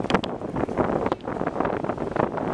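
Steady wind roars and buffets the microphone with gusty rumbling throughout, loud and close, with no voices.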